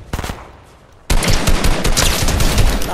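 Rapid automatic gunfire from the Fortnite video game, a short spattering of shots followed by a dense, loud, continuous barrage of overlapping bursts.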